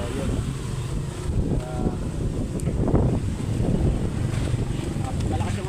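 Steady wind buffeting the microphone, a constant low rumble with gusts rising and falling, and a voice faintly audible beneath it.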